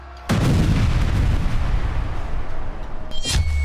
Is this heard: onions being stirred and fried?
no